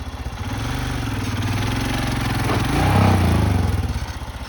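A motorcycle engine runs close by with a low, throbbing pulse and rises briefly in a mild rev before settling back, steady and fairly loud, with no talk.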